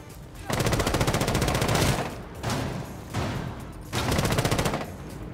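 Rapid automatic gunfire from the video game Rainbow Six Siege comes in three loud bursts separated by brief pauses, the rattling shots close and dominant, with talk underneath.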